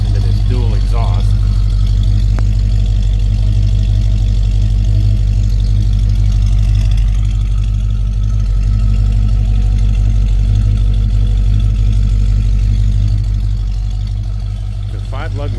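A freshly restored 1965 Ford Mustang V8 with automatic transmission idles through its dual exhaust, a loud, steady, deep low rumble held throughout at close range.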